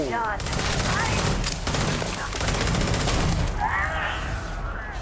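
Rapid gunfire in Starfield, a dense burst of repeated shots lasting several seconds, loud and close, with brief voice sounds over it near the start and end.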